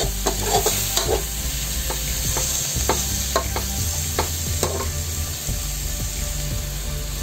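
Aloo palak, potatoes and spinach, frying in a pan while a spoon stirs and scrapes steadily, with repeated clinking strokes over a continuous close sizzle.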